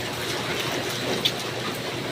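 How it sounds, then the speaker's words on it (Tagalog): Steady rain falls on a rainy morning, a continuous even hiss with no voices and one small tap standing out partway through. "ganitong panahon na panay ulan"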